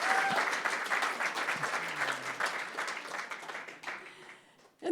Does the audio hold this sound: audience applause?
yes